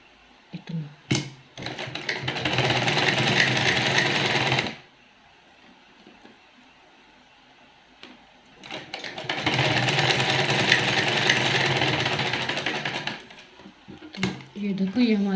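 Sewing machine stitching a zipper onto a women's party wear dress, two steady runs of rapid mechanical whirring separated by a quiet pause, with brief handling clicks around them.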